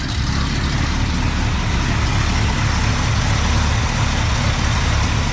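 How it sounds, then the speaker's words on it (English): The 390 engine of a 1961 Cadillac runs with no muffler and a pea shooter exhaust, giving a steady, loud, gritty rumble that holds constant throughout. "The old 390 with no muffler and pea shooter exhaust."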